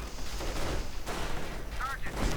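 Rapid automatic gunfire from a strafing run in a World War II-style war video game, dense crackling bursts with distant battle noise and a voice talking over it.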